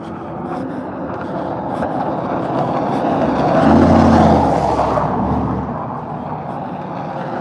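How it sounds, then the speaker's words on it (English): Broad, steady street traffic rumble on Mill Avenue in downtown Tempe on a Saturday night, swelling as a vehicle passes close around the middle, with a low engine drone and no talk. "Traffic's a bit noisy."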